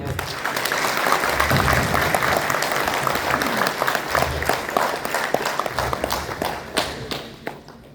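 Loud, sustained applause from a large crowd at a company meeting, dense clapping throughout that thins out and fades near the end.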